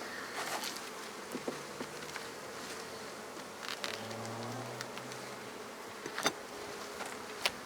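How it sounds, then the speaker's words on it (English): Honey bees hum around an open hive during an inspection in a steady, close buzz, with individual insects droning past the ear in low passes over a soft continuous swarm. "Some of these bees are really pale colored."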